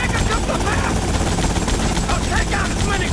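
Helicopter exploding in the video game GTA Vice City, heard as a dense, loud, continuous roar of blast and crackling gunfire-like noise filling the whole stretch, with game audio layered throughout.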